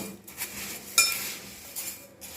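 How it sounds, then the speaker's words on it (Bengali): Bhel puri ingredients with coriander leaves and cucumber being mixed in a bowl, irregular close scraping and rustling with a sharp clink of a spoon against the dish. "আমি এগুলো সব কিন্তু মিক্স করব"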